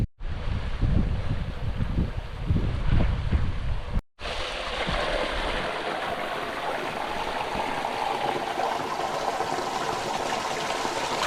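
Snow-melt stream on Mt Ruapehu, New Zealand, a steady rushing and gurgling of water close by, preceded by a few seconds of gusty wind buffeting the microphone before a brief cut.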